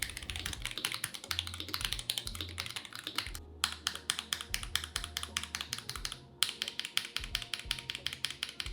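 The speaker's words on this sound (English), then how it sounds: "All of this together makes this keyboard sound really good." Rapid, crisp mechanical keystrokes clatter steadily with a brief pause, each key press sharp and close, no voices.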